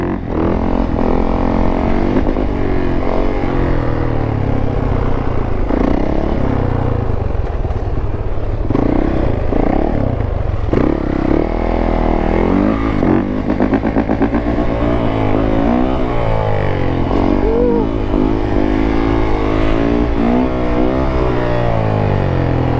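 A Yamaha YZ450 dirt bike engine runs loud and close throughout, its revs rising and falling in repeated surges with clattering mechanical noise.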